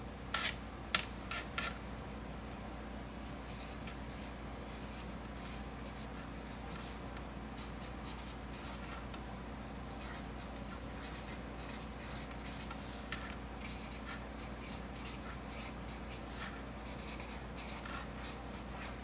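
A marker squeaks and rubs across a surface in short, quiet strokes, close by against a faint background hum.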